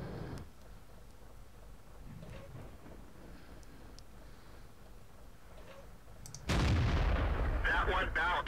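The Hummel artillery gun in the World of Tanks video game fires one heavy, loud boom that rolls into a sustained roar. Before it comes a quieter stretch of battle ambience with faint knocks.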